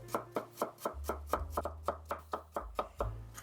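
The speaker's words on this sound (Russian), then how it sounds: "Имбирь порежу соломкой." A knife chops ginger into thin strips on a cutting board, producing a rapid, steady series of about a dozen crisp, close knocks with a low hum underneath.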